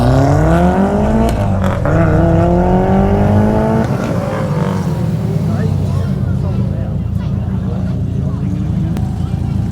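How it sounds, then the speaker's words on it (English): A Mitsubishi Evo 8 tarmac rally car engine revs loudly and climbs through rising pitch sweeps, then settles into a rough, steady drone, with people talking over it. "we've got Tristan and Andrew in the Mitsubishi Evo 8."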